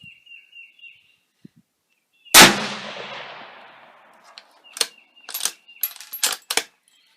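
A single loud rifle shot from a .223 Rem Savage Axis firing 63gr SMP rounds at a 200-yard target rings out sharply, its echo decaying over two seconds, followed by a few lighter clicks and knocks of handling.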